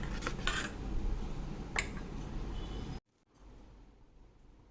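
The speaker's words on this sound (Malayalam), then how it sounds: "നന്നായിട്ട് ഞാൻ മിക്സാക്കി എടുക്കുകയാണ്." A spoon scrapes and clinks against a bowl while beetroot dosa batter is stirred, a soft, close run of kitchen clatter that stops abruptly and gives way to quiet room noise.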